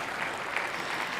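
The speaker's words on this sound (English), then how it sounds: "a little more clapping" A big conference-room audience at a Microsoft 365 keynote claps steadily and densely, a continuous wash of many hands at moderate distance with no voices on top.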